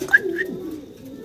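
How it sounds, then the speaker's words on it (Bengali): Black Lahori pigeons give a short, soft coo at close range, a brief low murmur with no speech. "ব্ল্যাক এক পেয়ার লাহোরি কবুতর দেখতে পারতাছেন"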